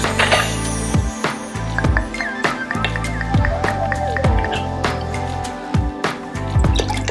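Amaretto and lime juice poured into a cocktail shaker while making a Mai Tai, a run of close, loud liquid splashes and drips with clinking of the shaker and bottles throughout.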